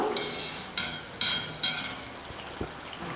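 Oil sizzles and bubbles steadily as murukku fry, broken by a few sharp bursts of louder hissing and a couple of light metallic taps.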